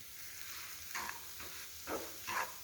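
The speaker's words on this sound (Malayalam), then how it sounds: "ഈ റവയും ഇതിന് നല്ല പോലെ തന്നെ ഒന്ന് യോജിപ്പിച്ചെടുക്കണം" A spoon stirs roasted semolina into a coconut and banana mixture, making faint, soft scraping strokes about four times in a slow rhythm against a quiet background.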